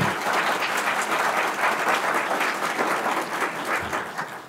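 An audience at the 2024 Great Salt Lake Issues Forum applauds steadily for several seconds, a dense, even wash of many hands clapping in a hall, thinning slightly toward the end.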